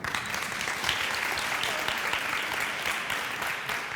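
An audience applauds a speaker at a talk on student retention, steady dense clapping filling the room throughout at a moderate, even level.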